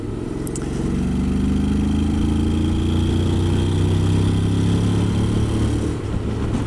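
A 2021 Honda Forza scooter engine accelerates while ridden, a steady close drone whose pitch climbs smoothly for several seconds under constant wind noise.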